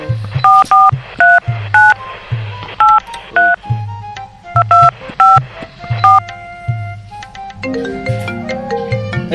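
A telephone number is dialed as a run of loud, clean keypad tones, beeping in quick bursts of several digits separated by short pauses, with softer faster tones clustered toward the end.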